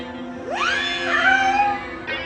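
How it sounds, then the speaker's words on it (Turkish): A tabby cat gives one long, rising meow up close, loud and drawn out, followed by a short second sound at the end, with no talking. "Tekir kedi seni, kedi tekiri seni."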